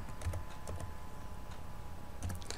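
Keys tapped on a computer keyboard while a domain name is entered for a site registration, a few quick clustered clicks at the start, middle and end over a steady hum.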